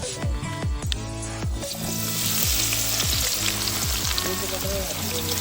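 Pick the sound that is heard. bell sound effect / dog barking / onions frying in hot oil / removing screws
onions frying in hot oil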